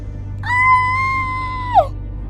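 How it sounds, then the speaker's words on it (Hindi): A long, high, sustained scream with a steady pitch, starting abruptly and bending sharply downward at the end, heard alone over a low background hum in a horror story. "तभी नीलू के कान में किसी के चिल्लाने की आवाज आती है।"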